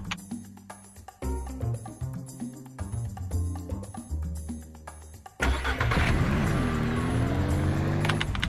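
A vehicle in the farming game Ranch Simulator starts up and drives, the engine turning over and humming with a harmonic tone, then becoming louder and rougher with broadband noise in the later half, steady and close.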